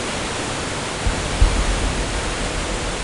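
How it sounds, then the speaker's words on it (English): Steady, broadband rushing water roar of a waterfall in the video game Gothic 2, constant and fairly loud throughout, with a couple of faint low thumps partway through. "God, I hate waterfalls in this game."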